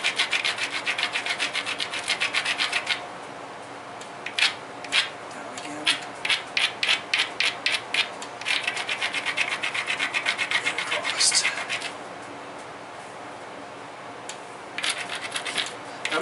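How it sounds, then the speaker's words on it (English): A novaculite flint knife preform has its edge ground down on a knapping stone, giving close, raspy scraping strokes, some continuous and others in short rhythmic bursts with brief pauses between them. "I'm gonna keep grinding until I feel like I got, you know, the grind that I was hoping for."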